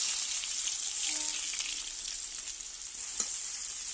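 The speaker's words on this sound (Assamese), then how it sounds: "এতিয়া কাটি ৰখা পিঁয়াজখিনি ইয়াত দি দিম।" Chopped onions fry in a pan used for a dried fish dish, giving a steady, close, crackling sizzle that holds throughout, with no talking.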